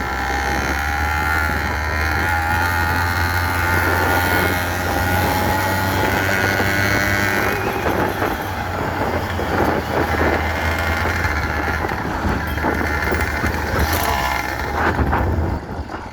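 A small motorized bicycle engine fitted with a homemade silencer drones steadily, close and loud, with a muffled buzzy exhaust note that rises and falls slightly.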